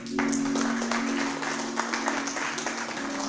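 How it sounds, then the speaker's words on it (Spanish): A church congregation applauds during a sermon, sustained moderately loud clapping over a low steady hum, continuing evenly for a few seconds. "Un aplauso al Señor."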